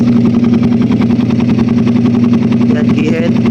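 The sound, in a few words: Raider 150 motorcycle engine idling with Keihin 28mm carburetor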